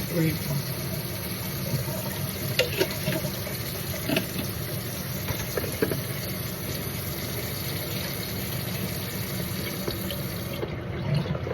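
Tap water runs steadily into a sink while a mouth is rinsed with baking soda and salt, a continuous close splashing stream with faint voice in the background.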